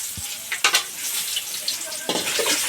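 Mixed small fish such as gulsha, tengra and pabda fry in a pan, hissing and sizzling steadily up close with a few stirring scrapes and clinks.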